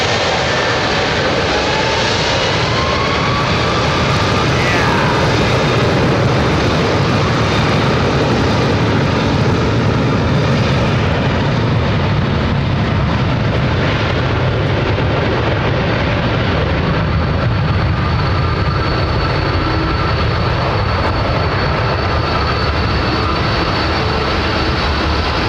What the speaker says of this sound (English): It's jet moving into position.